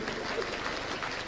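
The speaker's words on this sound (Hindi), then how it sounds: "तालियां आपने बजानी है।" A religious congregation at a spiritual gathering applauds together, a dense, steady patter of many hands heard fairly faint and continuous across the short span.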